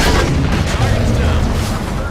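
Cannon destroyed in the Halo 5 video game, a dense continuous rumble of booming blasts and gunfire-like bursts filling the clip at steady loudness, with game voices mixed in.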